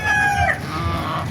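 Chickens at a Baliuag market cackle and crow loudly and close by, with other fowl such as ducks and geese nearby, in a busy farmyard-like din.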